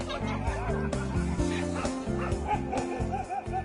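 A frightened stray dog barks and whimpers in short repeated bursts over a steady loud background of music or noise.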